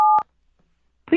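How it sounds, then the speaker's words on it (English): A touch-tone telephone keypad sounds one loud, close dual-tone beep. After a short silence, a second tone burst begins at the very end. "If you are calling from a touch-tone telephone and know the extension number of the person you wish to reach, you may enter it at any time."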